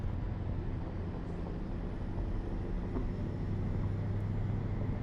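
An old Mack V8 truck engine in American Truck Simulator drones steadily at speed, a low continuous rumble with road noise and no talking.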